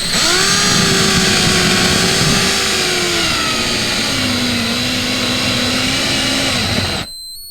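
A power drill whirs loudly and steadily for about seven seconds, drilling pilot holes in a wall for shelf anchors, its motor pitch dropping slightly partway through, then cuts off abruptly.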